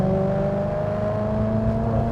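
Ferrari-built 4.2 V8 in a Maserati Cambio Corsa revving steadily in gear, a loud continuous engine drone with strong harmonic tones holding near-constant pitch throughout.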